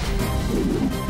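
A dense, noisy cartoon-style crash with a booming low end, sustained and loud for about a second, with no voices.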